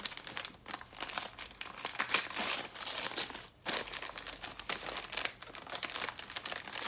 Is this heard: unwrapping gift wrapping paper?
yes